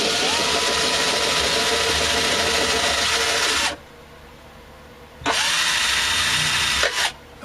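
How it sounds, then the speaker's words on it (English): Power drill set to forward, boring a hole in a small workshop: a loud, steady whine for several seconds, a pause, then two shorter bursts of drilling. "It helps if I turn the drill"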